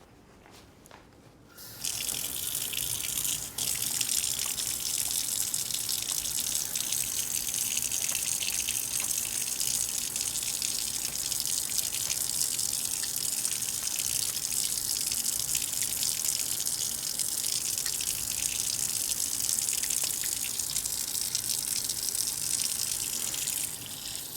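Steady tap water gushes into a kitchen sink during hand washing before a crumble bar baking session, a constant broadband rush starting after a brief quiet moment and running unbroken for about twenty seconds with no talk.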